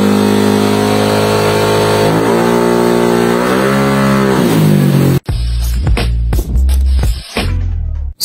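A motorcycle engine runs loud and close at a shop with a dyno, holding a rising, wavering drone that then breaks into choppy, sputtering bursts and misfires.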